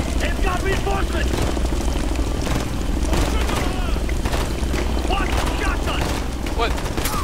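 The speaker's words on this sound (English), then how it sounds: "Hostile chopper inbound!" An enemy helicopter closes in during a firefight in the video game Ghost Recon Future Soldier, its rotor roar sitting under a constant, loud wash of gunfire and explosions while soldiers shout over the din.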